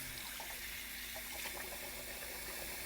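A tap runs steadily at a dog rescue farm, water streaming at a constant, fairly faint level while a puppy is washed, with no talk over it.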